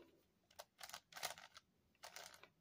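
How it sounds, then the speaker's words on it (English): Clicking mechanism of a Yuxin 5x5 Professor Pyraminx puzzle: a quick run of crisp plastic clicks in short bursts, close and quiet, with no talking. "is it's got a clicking mechanism"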